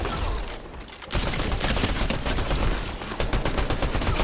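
Dense, sustained automatic gunfire from bots in the Fortnite video game, a near-continuous rattling fusillade that starts after a brief softer lead-in and keeps firing loudly to the end.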